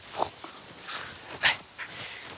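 Dogs snort, sniff and shuffle close by during training on Réunion, with short scattered huffs and a couple of sharper bursts between quieter breathing noises.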